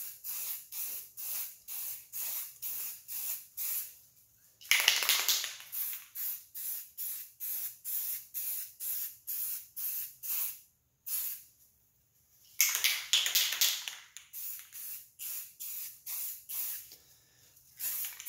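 Spray paint hissing in repeated short bursts onto a rifle hand guard, each puff loud and close, with two longer sustained sprays and brief pauses between them.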